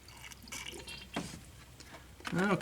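A 50-50 mix of antifreeze and water is poured into the cooling system of a 1988 Ford Ranger, with splashy trickles and gurgles close by and a voice briefly audible.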